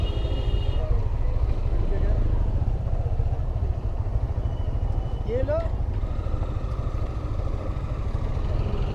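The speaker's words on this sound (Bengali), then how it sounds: "আর আমি যাইতেছি বাইকে" A motorcycle ridden away from a resort in Keraniganj, its engine giving a steady, loud rumble for the whole stretch with faint voices mixed in.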